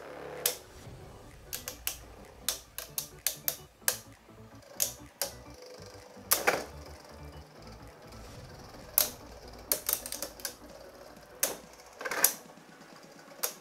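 Beyblade Burst Turbo spinning tops battling in a plastic stadium, giving sharp, irregular clacks and ticks of collisions scattered over a faint whirring spin, with no voices.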